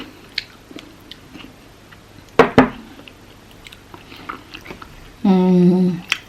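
Peppers bitten and chewed up close, a couple of sharp crunchy bites followed by soft wet chewing, with a brief hum-like voice sound near the end.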